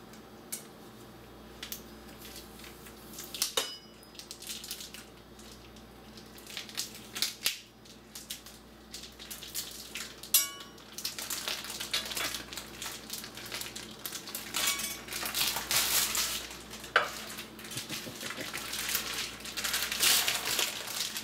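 A standing rib roast is pulled from its plastic packaging, making crinkling, crushing and rustling noises that grow louder and denser toward the end, with sharp crackles of wrapping over a low background hum.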